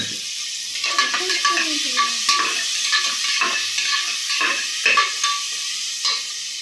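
Sliced onions sizzle and fry in a pan with a little salt for egg biryani, a spoon scraping and stirring them in a steady rhythm, with clinks against the pot, close and moderately loud, no talking.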